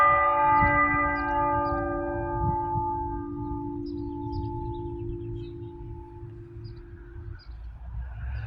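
Church bells chiming at noon, with long ringing tones that fade slowly into a lingering hum, set against low background rumble, with faint traffic noise.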